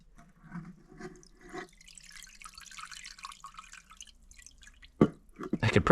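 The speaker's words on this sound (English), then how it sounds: "letting that gas soak through all of this steel wool." Gasoline drips through the steel wool of an old oil bath air cleaner, a close series of distinct drops and trickles. A louder splash and sloshing follow near the end.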